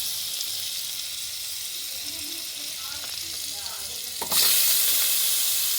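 Butter and garlic frying in a pan for chicken soup, a soft sizzle with light stirring clatter, then a sudden louder hiss as more goes into the hot pan.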